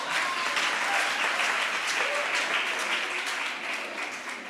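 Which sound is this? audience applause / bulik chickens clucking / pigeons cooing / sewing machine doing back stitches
audience applause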